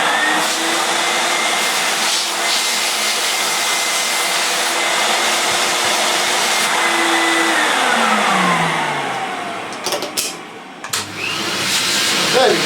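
An Electrolux Automatic G vacuum cleaner runs with suction in a loud, steady motor whine and airflow roar. Its pitch sags and stutters briefly near the end before resuming at full strength.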